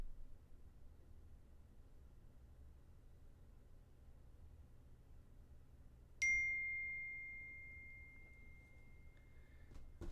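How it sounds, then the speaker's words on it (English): A phone chimes once for an incoming text message, a single clean ding that rings out and fades slowly over several seconds against faint room hiss. "Getting text messages."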